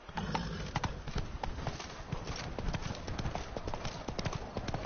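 Horse hooves clip-clop at a gallop in The Witcher 3, a steady rapid drumming of close, loud hoofbeats that runs through the whole stretch with no pause.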